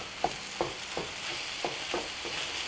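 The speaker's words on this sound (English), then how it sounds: "that chorizo is going to cook pretty fast. So just kind of begin to break it down and allow that to cook with the potatoes." Chorizo is broken up and cooked with potatoes in a pan under a constant sizzle. A spatula scrapes and taps it at a regular pace, about every third of a second.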